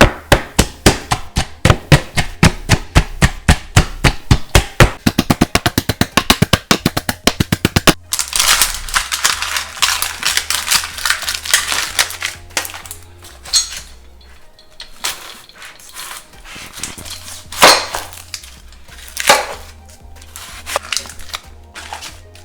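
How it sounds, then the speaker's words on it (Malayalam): Ginger, garlic, dried chillies and peppercorns crushed in a kitchen, a rapid run of sharp, close pounding strikes at first, then looser scraping and grinding bursts, with no talk. "ഇതെല്ലാം നന്നായിട്ടൊന്ന് ചതച്ചെടുക്കാം."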